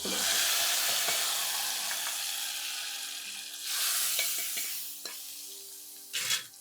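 Spices tempering in hot oil for a bottle gourd sambar sizzle loudly and steadily, with brief stirring clatters and a few utensil knocks near the end.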